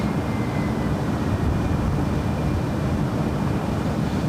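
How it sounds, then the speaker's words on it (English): A Delta Boeing 757-200 at Los Angeles International Airport on a stormy day makes a steady, broad jet roar from some distance, unbroken and without speech. "Back to the north side, we have a Delta 757."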